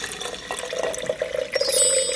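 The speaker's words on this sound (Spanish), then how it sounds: "le vamos a poner agua." Tap water poured onto lentil and chia seeds set out for sprouting, a close, steady splashing trickle that runs throughout with a slight brighter ringing near the end, no talk.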